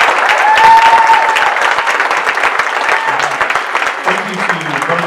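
Audience at a Roswell City Council candidate debate claps steadily and loudly for the candidates, a dense sustained applause that thins slightly toward the end, with a voice speaking over it in the last seconds.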